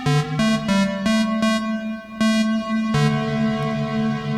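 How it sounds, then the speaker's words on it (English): Sustained Sequential Take 5 synthesizer tones with repeated chord changes, each onset trailing a bright, ringing metallic reverb tail. "the reverb does not sound good. It's very metallic"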